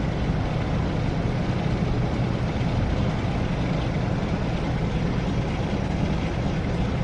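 British Rail heavy freight locomotive powering up in a snowy setting, a steady loud diesel rumble with broadband engine roar holding constant throughout, no talk over it.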